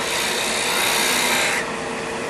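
A tool bores a center hole into a wood blank for a ring, giving a loud, continuous close rasping whir that drops in intensity near the end.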